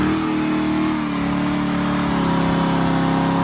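A stripped-down salvage 2001 Chevy Corvette C5 engine runs steadily up close, a loud continuous mid-pitched drone with a slight rise in revs, no talking.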